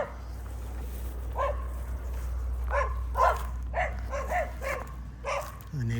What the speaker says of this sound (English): The neighbor's dog's barking.